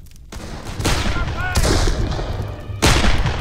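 Enemy gunfire in the Darkest of Days video game, with three sharp broadband shots at roughly one-second intervals over a steady battle din.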